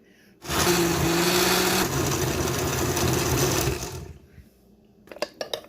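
Blender crushing jalapeno, chili, scotch bonnet and red onion for a peppered tilapia fish recipe, one loud steady whirring run of about three and a half seconds that stops abruptly, followed by a few faint clicks and knocks.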